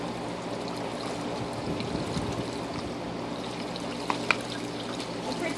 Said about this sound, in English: So I'm going to pull it out and try and squeeze as much of the water and the dye out.